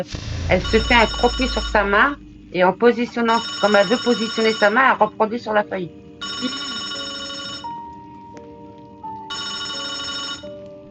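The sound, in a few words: telephone ringing in a Roblox video game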